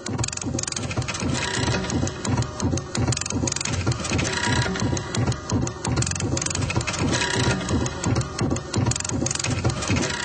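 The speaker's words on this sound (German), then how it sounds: "Diese Sinfonie für 35 Nadeldrucker macht das kanadische Duo The User zu den Mozarts des Bürobedarfs." Thirty-five dot matrix printers play a symphony together, a dense, loud clatter of rapid rhythmic print-head buzzing and pulsing mechanical chatter that continues without pause, alone and without voices.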